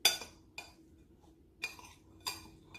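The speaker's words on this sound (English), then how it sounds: "We are going to start mixing the butter inside the cookie crust." Butter being mixed into a cookie crust in a bowl, heard as four separate clinks and scrapes of utensil against dish spaced out over a quiet background.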